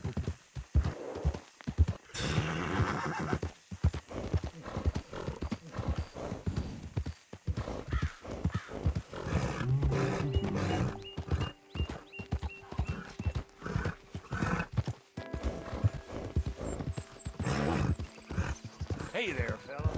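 A horse in Red Dead Redemption II clip-clops steadily and neighs now and then, heard close up under frequent speech.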